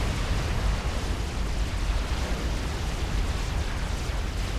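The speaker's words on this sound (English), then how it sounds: "And as the explosion clears, we can see that Peppy is heavily damaged." Artillery shells explode in a 4v4 ladder match of Supreme Commander: Forged Alliance Forever, producing a dense, loud, continuous roar of blast noise with deep low rumble that stays heavy for several seconds without letting up.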